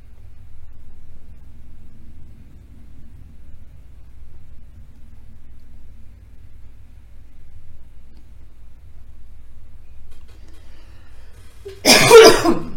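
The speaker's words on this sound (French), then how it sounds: "Décidément, je tousse beaucoup." A single loud cough bursts out near the end after a long stretch of quiet low background rumble.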